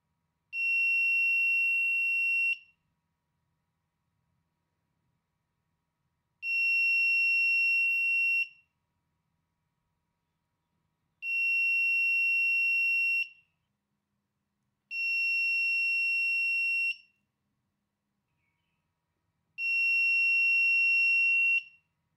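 A shrill, steady electronic buzzer tone from a tilt-sensor security alarm sounds five times, each about two seconds long, separated by several seconds of silence.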